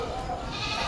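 A goat bleats at a livestock auction in Padre Garcia, Batangas, a short, wavering cry with crowd noise and talk around it.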